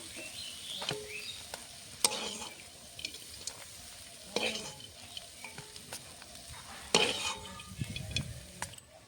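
Malabar spinach fruit fries quietly in a pan, with soft sizzling, occasional scraping stirs and clinks of a utensil against the metal, all fairly faint with no talking.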